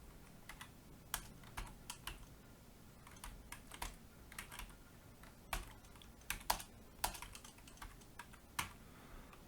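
Someone types on a computer keyboard while entering code, producing quiet, irregular clusters of clicky keystrokes with short pauses between words.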